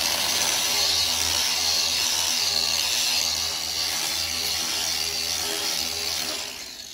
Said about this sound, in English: Angle grinder with the wire brush, and it's back to new, looking new.